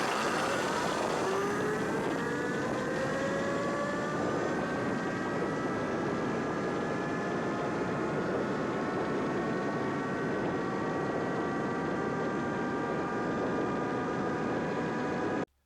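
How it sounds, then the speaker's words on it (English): Xekoya XE100, a 5,000-watt electric motorbike, on a top speed run: a steady rising whine climbs in pitch over loud continuous wind rush, close and unbroken throughout, with no talking. "You already know that I gotta get the top speed run done right away."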